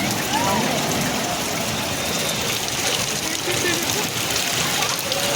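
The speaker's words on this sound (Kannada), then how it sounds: "ಎಷ್ಟೊಂದು ಮಳೆ ಬರ್ತಿದೆ ನೋಡಿ ತುಂಬ." Heavy rain pours during a shopping outing in Chickpet, a steady, dense, loud hiss of falling water that continues without a break.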